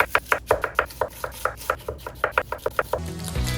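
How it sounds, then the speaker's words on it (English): Knife chopping fennel heads into thin slices on a cutting board, a quick run of about twenty crisp, close taps in a steady rhythm, with no talking. "I'll chop these heads of fennel into thin slices."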